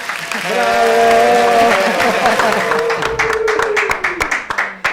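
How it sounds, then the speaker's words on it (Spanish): Studio audience applause greeting the guests arriving on a talk show about jotería, a dense burst of clapping mixed with loud voices cheering and shouting, thinning into scattered claps toward the end. "Un fuerte aplauso a ellos."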